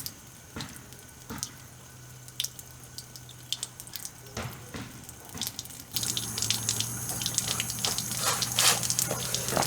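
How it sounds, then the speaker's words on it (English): Water rushes through household pipes after the supply is turned back on; a quiet hiss with scattered knocks swells into a steadier, louder gush of flowing and splashing water partway through. "I'm going to turn the water back on."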